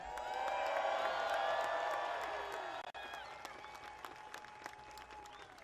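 A crowd at a protest march against the Trump administration in Washington, D.C. bursts into loud applause with cheers and whoops, then the clapping thins into scattered claps and a softer murmur.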